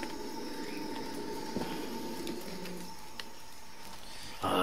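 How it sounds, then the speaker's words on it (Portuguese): Soft cooing calls of pigeons or doves against a quiet outdoor background, with a few faint chirps scattered through. "Ah, é esses pássaros aí, galera."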